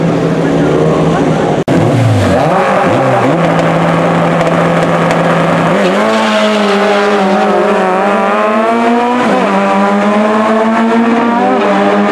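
Race cars at a round of the CDT series at Autódromo de Avellaneda, loud and close, with engines downshifting and braking into a corner, pitch dropping then rising again as they power out, over continuous crowd or commentary noise.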